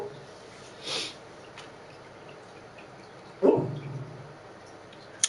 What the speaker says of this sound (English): If you can hear that, my dog's dreaming,